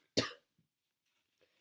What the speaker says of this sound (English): I'm dealing with a horrible cough right now.